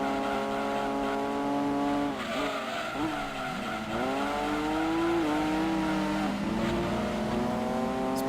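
A Datsun race car in Gran Turismo 2 revs and shifts through gears, its engine note rising and dropping repeatedly with tire squeal through corners, steady and close, with faint talk underneath.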